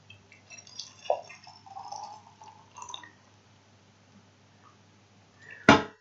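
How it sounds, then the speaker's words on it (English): Boiling water poured from a kettle into a container during a thermistor calibration setup, a brief close splash and gurgle at the end after scattered quiet handling sounds and a steady low hum. "let's get the boiling water in."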